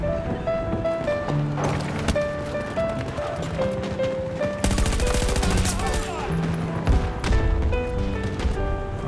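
Rapid gunfire in the shooter video game Battlefield 2042, bursts of shots over continuous game music and effects, with a dense volley midway through.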